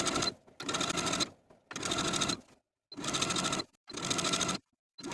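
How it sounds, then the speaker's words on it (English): A domestic sewing machine runs in four or five steady bursts with short pauses between them, edge stitching a rolled hem on a tank top; the whirring is close and clear, and no one speaks. "I'm just going to do a rolled hem, taking it to my machine"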